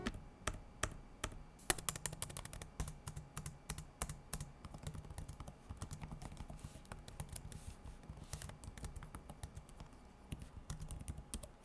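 Rapid typing on an Alienware x15 laptop keyboard, with dense, light, clicky keystrokes in irregular bursts up close, steady throughout and no voice over it.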